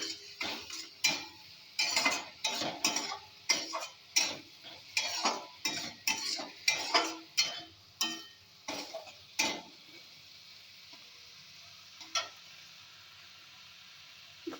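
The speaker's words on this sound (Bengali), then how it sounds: "আধা দানাটা ভালো করে আমি কষিয়ে দেবো" A spoon scrapes and knocks against a pan while spice masala is cooked down, giving a run of sharp, irregular clinks and scrapes that slow and stop partway through, leaving a quiet background with a couple of late taps.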